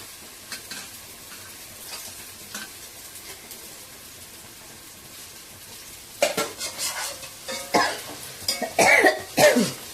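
Green chillies, mint, coriander and tomato sauté in a home pan, a low steady sizzle under stirring scrapes that turn louder and busier in the second half, with cutlery and pot clinks mixed in.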